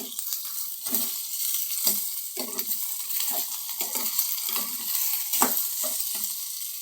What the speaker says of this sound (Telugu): ఆలుగడ్డలు వేసి ఒకసారి తిప్పి